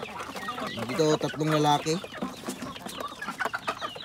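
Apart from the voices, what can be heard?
chickens clucking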